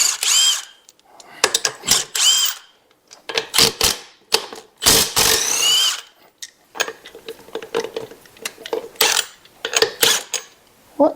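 Wheel lug nuts being spun off a 1966 Chevrolet C10 big-block pickup with an impact or power tool, in loud, close, repeated ratcheting bursts separated by short pauses and quieter clinks.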